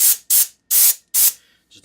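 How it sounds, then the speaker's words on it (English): Compressed air sprays dust out of a Dell R710 server in four sharp, loud hissing bursts at a steady rhythm, each cutting off cleanly, followed by a faint softer puff. "So I've got some compressed air."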